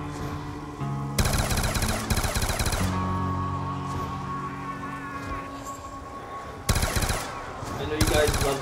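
Automatic gunfire in Black Ops 2 multiplayer, loud sustained bursts that start and stop over a steady game-sound bed, with a voice talking faintly beneath.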